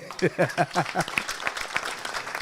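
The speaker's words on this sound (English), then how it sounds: "I can give a big round of applause for our MC" Brief applause for the MC at a rugby Super 14 launch event, arriving under a voice that speaks first, then a scattered crowd of claps continuing.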